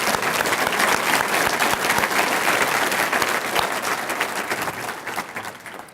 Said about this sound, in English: I don't think they ever get a round of applause, but let's give them one today